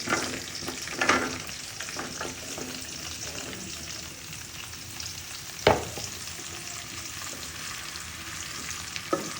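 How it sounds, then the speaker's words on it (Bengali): Spices for a tempering fry in hot oil in a pan, beginning to burn, giving a constant crackling sizzle with a few louder pops and a sharp clatter near the middle. "পাত্রে অলরেডি তেল দিয়ে দিয়েছি। ফোড়নটা কিন্তু জ্বলে যাচ্ছে।"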